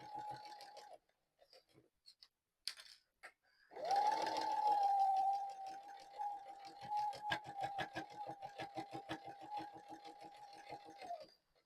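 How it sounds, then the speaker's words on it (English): A home sewing machine fitted with a quilting needle stitches through thick foam for a water-resistant boxed-corner pouch. After a short opening run and some handling clicks, it settles into a long, steady, close-up whir of fast stitching. "I can hear the way it's going through the foam, that it's quite thick"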